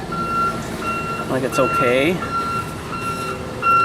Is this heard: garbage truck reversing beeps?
yes